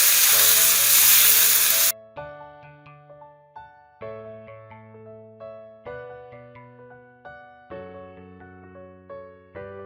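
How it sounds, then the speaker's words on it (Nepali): Onions frying lightly in a pan for a Nepali paneer pickle give a loud, steady sizzle for about two seconds, then it cuts off and soft melodic music plays with no sizzling. "अब प्याजलाई हल्का फ्राई गर्नुपर्छ"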